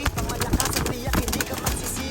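Pigeons coo softly in a loft amid shuffling and low background noise, with a faint voice present.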